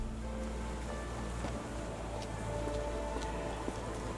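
Steady rain falls in a Victorian street scene of the Sherlock Holmes The Awakened video game, a continuous close hiss with scattered drop ticks over low ambient rumble, no talk.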